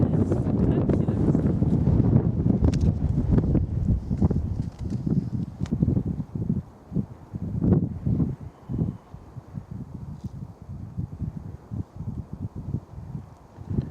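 Steady wind buffets across open moorland above a reservoir, a loud continuous rumbling roar with gusty swells, as a person talks underneath it.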